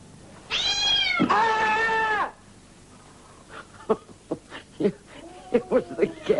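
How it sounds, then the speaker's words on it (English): A cat lets out two loud, long meows back to back, rising and then falling in pitch; after that, people talk in short, choppy bursts. "It was the cat. That cat must have done it."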